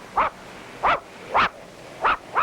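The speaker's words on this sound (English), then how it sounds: "What's he barking at, Spinner?" A dog barks five times in short, evenly spaced bursts, sharp and fairly close, with quiet pauses between each bark.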